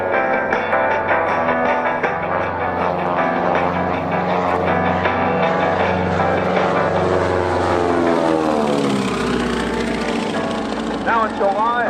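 A propeller warplane drones loudly and steadily at the National Warplane Museum's Greatest Show on Turf airshow, its engine pitch sweeping downward late in the pass.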